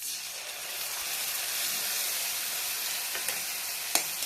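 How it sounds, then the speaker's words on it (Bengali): Steady, loud sizzling of a paste frying in hot oil, continuous hiss with a couple of brief clicks near the end. "পেঁয়াজটা আমার ভাজা ভাজা হয়ে গেছে। এবার দিয়ে দেবো পেঁয়াজ বাটা।"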